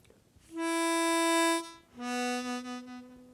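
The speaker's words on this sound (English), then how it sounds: "Again, 3 blow to 1 draw." Harmonica played with tongue switching, jumping from the 3 blow note to the 1 draw note: two sustained, reedy tones in succession, the second lower and slightly wavering, close and clear with no talking.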